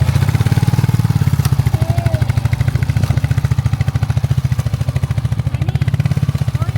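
A heavy motorcycle engine idles with a steady, rapid chugging pulse near a beach, its wheels bogged down in soft sand, running loud and continuous throughout.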